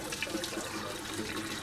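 Water from cooked macaroni pours steadily through a drainer clipped to the side of the pan, making a continuous splashing rush up close.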